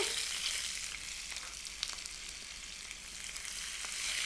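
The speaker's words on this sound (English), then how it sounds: "And you can hear that start to sizzle." Steady, crackling sizzle of potatoes and chicken frying in hot oil in a skillet, close and continuous, with no voices.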